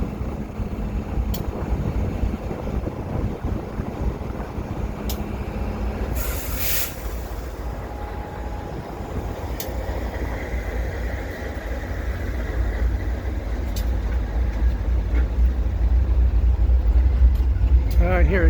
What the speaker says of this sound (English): hopefully soon this train will leave. Just doing its station stop.